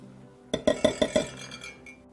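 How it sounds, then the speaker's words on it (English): A whisk rattles rhythmically against a bowl as baking soda, salt and dry ingredients for oatmeal cookies are mixed, with five quick, evenly spaced metallic clinks up close and then fading scraping, with no talking. "We're going to take those and mix them together just with a whisk, just to get the ingredients mixed in"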